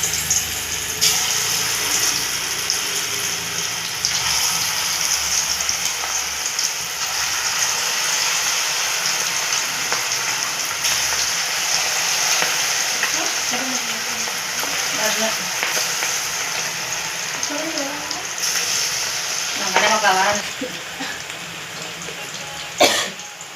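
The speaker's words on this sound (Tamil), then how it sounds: "சிக்கன் வறுக்கிறேன் பாருங்கள்" Chicken 65 pieces deep-frying in hot oil give a steady, dense crackling sizzle through the whole stretch, with occasional brief bubbling bursts and faint background voices near the end.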